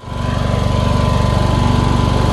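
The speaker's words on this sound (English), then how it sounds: "I'm going to get a little more mowing action here" A John Deere lawn mower engine runs steadily during lawn cleanup, a loud, close, continuous droning hum with a fast pulsing rhythm and no voices.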